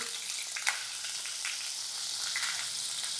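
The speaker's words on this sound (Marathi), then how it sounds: "तूप तापलंय बघा आता आपल्याला ह्याच्यात जिरं टाकायचं आहे मिरची टाकायची आहे" Cumin seeds and finely chopped green chillies sizzling in hot ghee in a pan, a dense continuous hiss that stays close and fairly loud, with one faint tap near the start.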